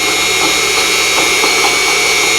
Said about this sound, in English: Every time you hear that little bobble in the motor, it's hitting a piece of junk.